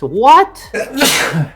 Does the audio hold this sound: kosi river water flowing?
no